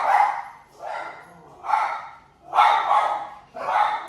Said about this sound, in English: 2 little dogs that think that they're guard dogs in the house